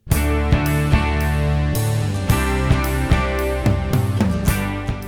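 Electric guitar played through an amp with a true bypass looper on a pedalboard, ringing distorted chords struck in a steady rhythm, loud and close with sustained tails and no speech.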